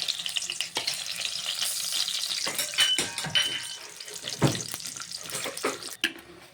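Cumin seeds crackle and sizzle in hot oil, a dense bright hiss with scattered pops and occasional stirring knocks.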